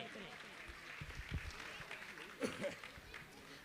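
Applause from an audience at a religious discourse gathering, a moderate wash of clapping with scattered louder bursts, heard alongside some voices and movement nearby.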